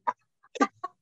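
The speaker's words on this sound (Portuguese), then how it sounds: "Eu tenho galinhas." Chickens cluck in three short, close bursts, with brief quiet gaps between them and no other sound around.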